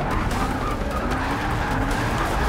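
Shelby GT350R braking hard at the Nurburgring in Forza Motorsport 6: a steady engine drone with tyres squealing and skidding, close and continuous for a couple of seconds.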